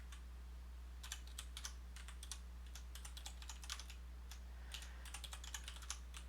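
Rapid typing on a computer keyboard, irregular bursts of close key clicks over a steady low electrical hum, with no voices.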